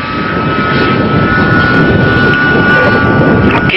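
Ducted fan engines on a large-scale Tupolev Tu-22M Backfire model jet, one engine running below full speed, give a loud, continuous whining roar with a steady high tone as the aircraft flies nearby.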